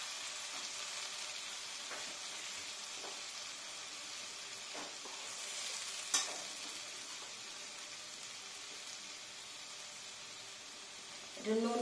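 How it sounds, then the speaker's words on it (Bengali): Spice paste frying and being stirred in leftover fish-frying oil, a steady close sizzle with occasional sharp scrape and clatter bursts, a louder crackle near the end. "এবার মাছ ভাজার তেলেই আমি এই মশলাটাকে দিয়ে একটু কষিয়ে নেব"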